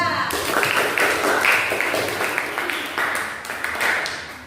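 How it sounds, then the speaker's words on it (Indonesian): A class claps for a group of students at the front of a room, a dense, lively burst of clapping from many hands that swells and slowly tapers over several seconds. "Beri tepuk tangan untuk kelompok 2."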